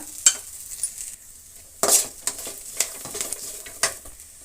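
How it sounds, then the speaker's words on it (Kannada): Curry leaves, green chili, onion and turmeric fry in a hot pan, with a steady soft sizzle broken by repeated close scrapes and clinks of a spoon stirring against the metal. "ಸ್ವಲ್ಪ ಕರಿಬೇವು ಸೇರಿಸಿ ಚೆನ್ನಾಗಿ ಫ್ರೈ ಮಾಡ್ಕೊಳ್ಳೋಣ"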